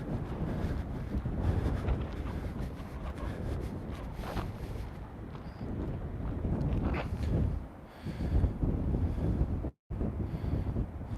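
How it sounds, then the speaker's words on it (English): Wind buffets a microphone outdoors with steady, loud low rumbling gusts that ease briefly near the end before returning. "The wind is a little bit less right here."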